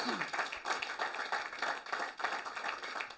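A church congregation claps for the Lord in a fairly quiet, steady patter of many hands, with faint voices mixed in.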